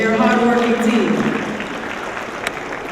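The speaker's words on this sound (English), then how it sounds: "You can clap them, yes, they're a hard-working team." Applause from a forum audience for a hard-working team, a dense patter of clapping that fills the room and holds steady, with a voice speaking over it at the start before the clapping carries on alone.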